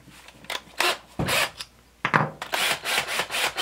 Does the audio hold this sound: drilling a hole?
yes